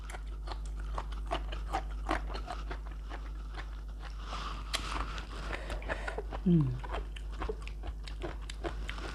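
White asparagus eaten up close, giving repeated sharp crunches and wet chewing in an irregular rhythm, with a low steady hum underneath and a brief voiced sound partway through.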